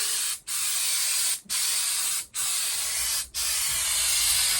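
Aerosol spray coating hissing from a can in a garage, five long, loud, close bursts of continuous spray separated by four brief gaps, with no talk.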